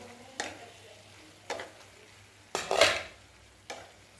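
Sweet potato slices are stirred in a covered pan in four separate bursts of clattering and scraping, with a faint simmer underneath between the stirs.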